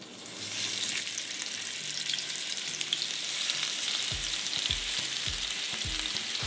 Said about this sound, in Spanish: Ya que el aceite esté caliente, vamos a poner los chiles.